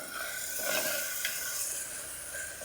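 Tomatoes simmer and sizzle in a pan while cooking down for egg bhurji, a soft, steady frying hiss with light stirring and no talking.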